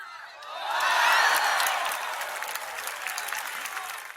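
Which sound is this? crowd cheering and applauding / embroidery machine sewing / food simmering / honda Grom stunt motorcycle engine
crowd cheering and applauding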